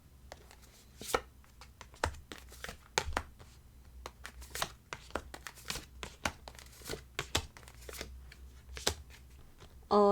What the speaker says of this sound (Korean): 추가 카드 한 번 더 뽑아보면서 리딩 계속 연결 지어 볼게요